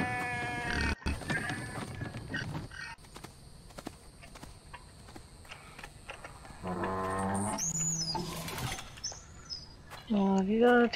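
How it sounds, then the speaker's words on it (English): A goat or sheep in The Infected survival game bleats in short wavering bursts between quieter stretches of ambient game noise, with chirping birds and a clip-clop-like patter scattered around; a voice speaks briefly. "That goat's, or that sheep, whatever he's supposed to be."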